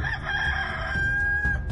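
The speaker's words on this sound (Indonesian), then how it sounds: "deng ayam pai bakuku." A rooster crows once in a long, drawn-out call, fairly close and clear over a low background rumble.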